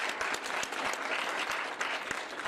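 A seminar audience at a public policy evening applauds steadily, a soft, even wash of many hands clapping at moderate distance.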